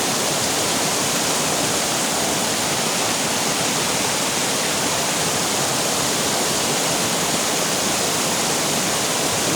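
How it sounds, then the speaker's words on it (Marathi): A fast-flowing stream in Konkan swollen with water rushes nearby in a dense, loud and continuous roar, steady throughout with no voices. "पाणी जोर वाढलेला आहे अशा मित्रांनो थोडं जोरदार पाण्याचा कळकळ असा आवाज येत आहे"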